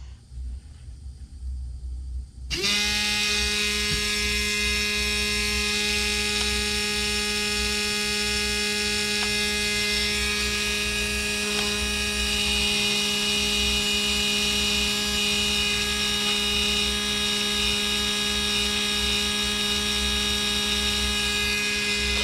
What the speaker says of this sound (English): I'm going to hook up the motor with the stock fully charged battery, and we'll measure the RPMs.